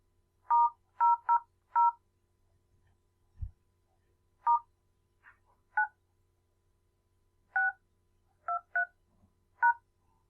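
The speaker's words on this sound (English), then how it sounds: "So I'm heading over to my mobile phone and I will dial this code." A mobile phone keypad sounds about a dozen short, quiet DTMF dialing tones while a payment code is entered. The beeps come in irregular clusters separated by pauses, against a near-silent background.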